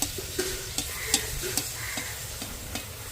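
Pea kachori frying in hot oil as oil is spooned over the top, a soft continuous sizzle broken by regular light ladle taps and splashes.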